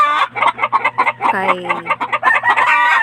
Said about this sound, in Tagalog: Ang tanan namong mga manok makakulong gid na siya